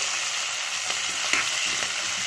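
Green chillies and garlic sizzling in hot oil in a pan, a steady close crackle with occasional sharper pops and spatters, no voices.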